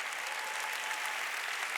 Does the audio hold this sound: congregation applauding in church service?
yes